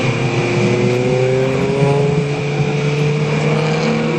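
A VW Golf TDI race car at Silverstone GP in the Britcar Trophy, a loud, sustained engine drone with a gently shifting pitch, close and continuous throughout with no gaps.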